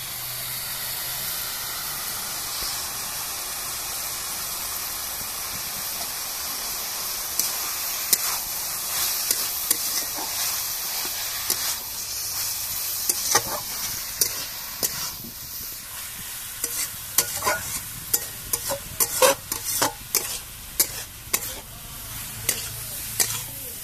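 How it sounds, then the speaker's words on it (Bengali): Beaten eggs poured into a pan of fried vegetables for a spicy egg vegetable pasta, giving a steady sizzle and hiss that builds into sharp crackling spatters and stirring scrapes toward the end. "এবারে আমি ফেটিয়ে রাখা ডিমগুলো দিয়ে দেব।"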